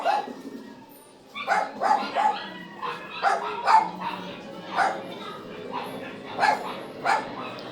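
A dog barks repeatedly in short bursts, fairly close, with a brief pause before a run of sharp, evenly spaced barks.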